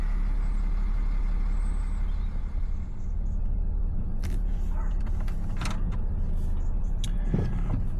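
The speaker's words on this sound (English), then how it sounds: "So let's get driving, see if we can clear it." Jaguar XF-S car driving slowly up and down a driveway, a steady low engine and road rumble running throughout, with a few brief mechanical clicks and knocks near the end.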